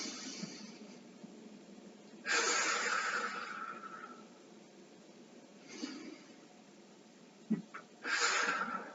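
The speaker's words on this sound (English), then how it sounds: "Now let's take 2 more deep breaths." Slow deep breaths during a seated yoga twist, each long airy inhale or exhale rising and fading near the microphone, with a few quiet pauses between, no talking.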